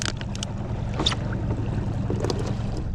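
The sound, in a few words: another boat passing on the water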